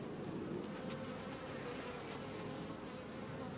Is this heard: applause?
no